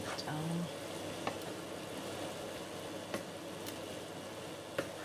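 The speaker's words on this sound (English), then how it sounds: "so just give it a good mix, good stir." A creamy mushroom and chicken sauce is stirred in a pan, with a soft steady sizzle and faint scraping, and occasional light clicks of a utensil against the pan, with brief quiet talk early on.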